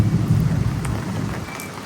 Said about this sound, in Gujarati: હવે મિત્રો આપણે છે ને વરસાદ વધી ગયો છે